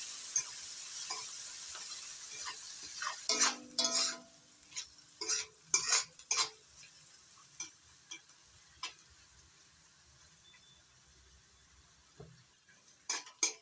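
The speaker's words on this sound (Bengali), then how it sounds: "গ্যাসের ফ্লেমটা হাইতে রেখে এবার পেঁয়াজটা ভালো করে ভেজে নেব লাল লাল করে।" Chopped onions fry on a high gas flame for a fish roe curry, a soft hiss at first, then scattered spatula scrapes and metallic clinks against the pan over a faint, fading sizzle.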